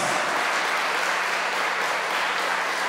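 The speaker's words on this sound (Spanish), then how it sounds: "Denle el aplauso al Señor, gloria a Dios." Dense, loud applause from a large congregation at a church worship service, continuous and even throughout.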